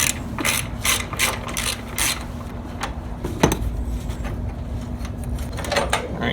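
Ratchet wrench clicking steadily as it backs out 10 mm bolts and a nut on a car's battery support, an S14 240SX with a KA24DE engine, with rapid repeated pawl ticks close by and no talking.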